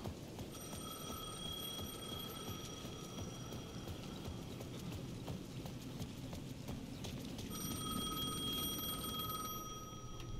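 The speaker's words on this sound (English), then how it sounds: "The payphone at the edge of the plaza was ringing again." A payphone rings at the edge of a plaza in Alan Wake II: two bursts of steady electronic ringing, the second after a pause, heard softly over a low ambient background.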